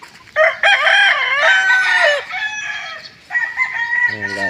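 A rooster crows loudly and close by in a small backyard poultry pen, one long strained call followed by a shorter second crow, while other chickens cluck softly around it.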